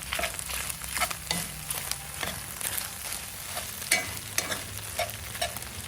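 Spoon stirring mac and cheese in a pan inside a pizza oven, with soft scraping strokes over a faint bubbling sizzle at close range and no talk.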